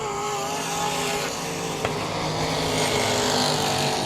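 Race cars at South Texas Speedway roar past on the track, a dense, loud and continuous engine drone held at full throttle off a corner, with no pauses.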